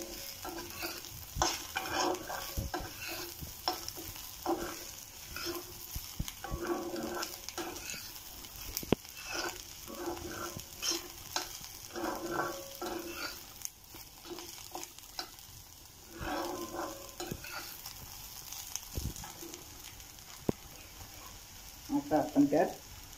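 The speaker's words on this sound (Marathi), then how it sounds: "हे कारलं त्यात भाजलेलं कारलं टाकायचं. थोडं परतायचं त्याला 2-3 मिनटं." Bitter gourd being stir-fried with browned onions in a pan, a soft continuous sizzle broken by frequent scraping and stirring strokes of a spatula, close by.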